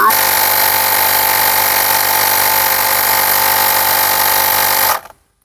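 A portable tyre inflator pumps air into a vehicle tyre with a loud, steady motor drone that runs unbroken for about five seconds, then cuts off abruptly as it reaches 40 and leaves silence.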